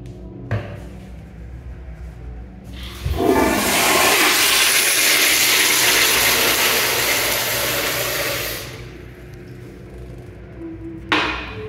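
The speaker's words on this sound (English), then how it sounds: "Button on the back. Press it, it'll flush." A Walmart restroom toilet flushes with a loud rushing whoosh of water lasting about five seconds, fading to a quieter refill, with small clicks before and after.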